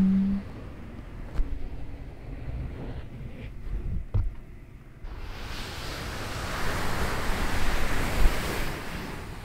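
Ocean waves on a sleep cassette: a soft, steady wash of surf rising and falling, swelling louder in the second half, faint and continuous with no talking.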